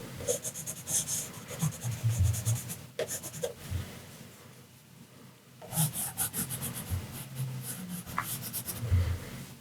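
Watercolour pencil, a brown one, scratching and rubbing across paper in bursts of short strokes, with a quieter pause midway before the shading resumes, close and fairly soft, no talking.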